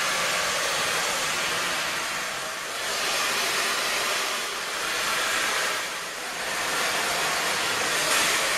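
A hair dryer blows hair smooth over a metal round brush, a loud, steady rushing whoosh. The airflow dips gently several times as the dryer moves.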